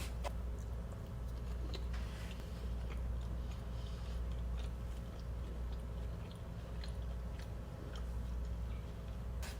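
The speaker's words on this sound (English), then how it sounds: "The crust is a bit crunchy, so that's good." Close, crisp bites and repeated crunchy chewing of homemade apple pie crust, a steady run of small crackling chews with no talking.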